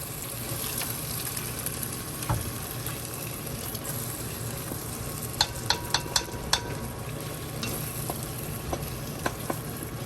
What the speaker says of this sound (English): this is garlic, ginger, rosemary, some onions, and you make sure that you stir